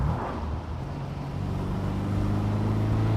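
An MGB classic British sports car on a countryside road after a downshift, its engine droning low and steady as the note rises and grows louder toward the end, heard from inside the car with wind and road noise.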